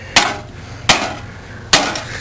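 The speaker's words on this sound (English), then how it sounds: "Hit it with the hammer." Three heavy hammer blows strike a computer, each a sharp loud crack with a short decay, spaced almost evenly about a second apart, with no talking over them.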